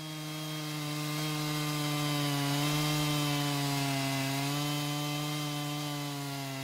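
A chainsaw mounted on a PortaMill PM14 portable chainsaw sawmill cuts lumber, giving a loud, steady high-revving engine drone with a strong, sustained tone and slight pitch wavering throughout.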